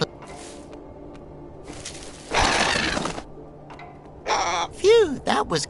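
A crow in The Inner World adventure game gives loud, harsh caws near the end, following a noisy crash and other game effects, with character speech heard around it.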